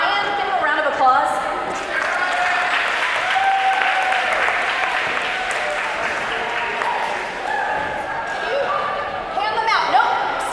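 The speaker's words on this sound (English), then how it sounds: "give him a round of applause" School assembly audience applauding in a large room, a steady wash of clapping lasting throughout with scattered cheers and voices mixed in.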